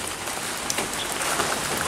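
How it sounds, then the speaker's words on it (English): Steady rain falling on a garden on a rainy morning, a dense, even hiss of drops with faint scattered patters, continuous and close, with no voices. "It's been raining since about 6 a.m."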